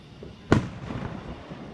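A single Fourth of July firework explodes with a sudden loud bang partway through, trailing off into a rolling rumble and faint crackle at a distance, with no talking.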